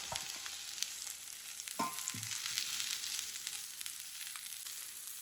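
Onion sautés in olive oil in a pan, giving a steady soft sizzle with a couple of brief scraping stirs, heard close and alone.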